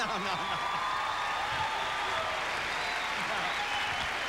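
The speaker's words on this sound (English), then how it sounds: "Go ahead, keep applauding." A telethon studio audience applauds in a steady, unbroken wash of clapping that holds at an even level throughout, moderately distant.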